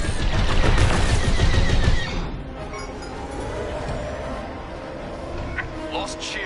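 Dense gunfire in the Star Wars Squadrons video game hammers loudly for about two seconds, then drops to a lower rumbling battle bed with scattered faint blasts.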